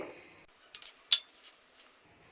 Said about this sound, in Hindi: अब इसी तरह बाकी का प्याज भी काट लेंगे।